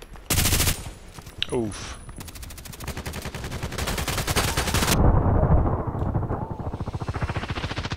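Automatic machine gun fire in the online shooter Contract Wars, on the Terminal map: loud, rapid, continuous bursts, with a brief spoken exclamation near the start.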